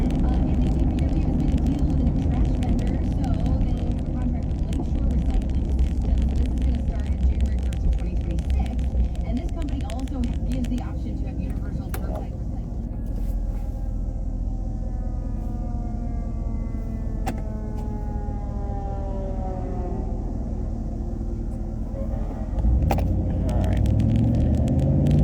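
Emergency vehicle sirens wail with rising and falling sweeps as they pass along the road over a heavy, steady traffic rumble, while a person talks.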